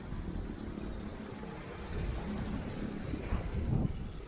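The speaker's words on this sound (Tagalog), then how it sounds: "Lakas ang hangin." Steady wind buffets the microphone on a breezy day at a model plane flight, with a low, rumbling roar that swells slightly toward the end, with no voices.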